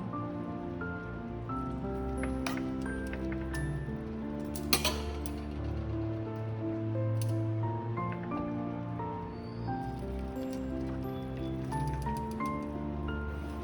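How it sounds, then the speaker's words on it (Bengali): Boiled chowmein noodles are drained through a sieve, water pouring and splattering in a continuous rain-like patter with a few metallic clinks over a low background hum. "আমি একটা ছাঁকনিতে ছেঁকে নিচ্ছি"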